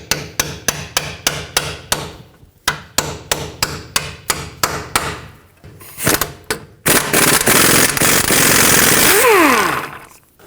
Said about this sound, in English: If you're doing it this way, you're going to have to tap the socket onto the hammer.